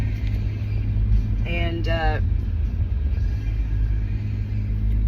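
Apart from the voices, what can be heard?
truck driving on the road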